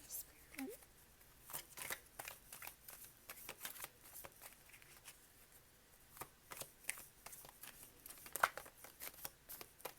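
Tarot cards are shuffled in a steady run of soft, rapid riffles, close and quiet, with a voice speaking over them throughout.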